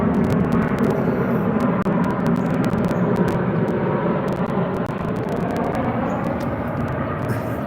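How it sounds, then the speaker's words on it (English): A big airplane passes close overhead with a loud, steady roar that fills the whole clip and eases slightly toward the end. "Look at this big ass plane coming up."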